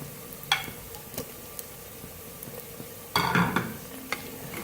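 Chopped tomatoes go into a frying onion, garlic and ginger paste for turnip sabzi, bringing a sudden burst of sizzling over a quiet background of pan stirring and clinks.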